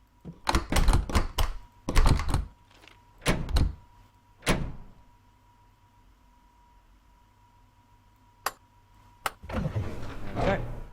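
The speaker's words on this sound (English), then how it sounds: "from the guard panel, let's open the door" Train doors on an Isle of Wight shuttle in Train Sim World 2 unlock and open at Shanklin station, a burst of clunks and thuds followed by a sliding rush, with a steady electrical hum and later clicks.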